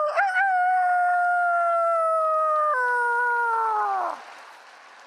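A preacher at a Korean church's Friday evening service imitates a rooster crowing with his voice: one long, loud, sustained call that bends lower partway through and then drops off sharply near the end.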